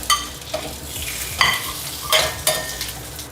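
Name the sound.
mushrooms being stir-fried with broccoli in a pan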